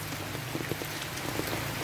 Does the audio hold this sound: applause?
no